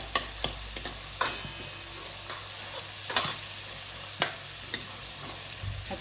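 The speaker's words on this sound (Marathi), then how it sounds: "कांदा आपल्याला भाजून घ्यायचा आहे, मऊ करायचा आहे कांदा तेलामध्ये." Chopped onion fries in oil in a pan for pav bhaji, a soft steady sizzle with scattered sharp clicks and taps of a spoon stirring.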